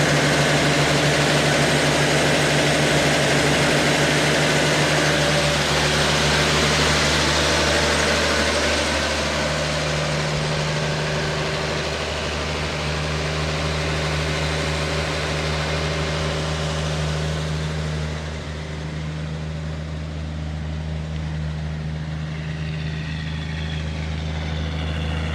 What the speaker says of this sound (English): Listen to that purr.